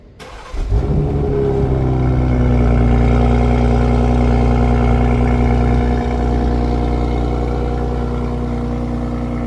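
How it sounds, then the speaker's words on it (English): A BMW M440i xDrive engine cold-starts with a quick crank and rising roar, then settles into a loud, steady high idle that eases slightly over several seconds, close up with no talk. "Let's hear a little cold start."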